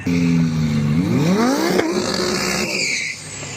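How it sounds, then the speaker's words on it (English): An Audi Quattro spins its tires at a drag strip to warm them, the engine revving up with rising pitch over a loud, steady tire squeal, close and continuous for several seconds with no talking. "He just wanted to warm up his rear tires."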